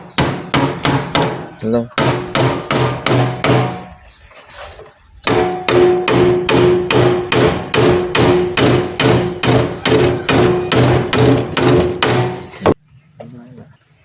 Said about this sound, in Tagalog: Pako na natin to.